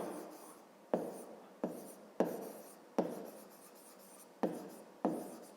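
A formula being handwritten for a fifth-grade maths exercise: close scratchy pen or chalk strokes in a series of short bursts, each starting with a sharp onset, quiet between strokes, no speech.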